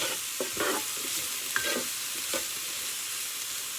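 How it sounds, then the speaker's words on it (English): Summer vegetable stir fry being stirred in a hot pan, with several scraping sweeps of a utensil over a steady background sizzle, close and moderately loud, no talking. "And give it one last stir."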